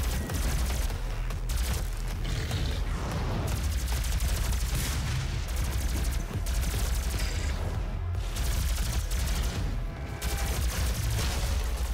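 Rapid gunfire from a plasma gun or machine gun in the video game Doom, a continuous dense barrage of shots and booms filling the whole stretch, loud and relentless.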